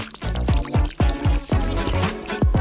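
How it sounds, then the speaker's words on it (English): Water poured in repeated short glugs into a plastic detergent bottle, each pour rising in pitch as the bottle fills, close and fairly loud with a rhythmic gurgling pattern and no talking. "Just add water."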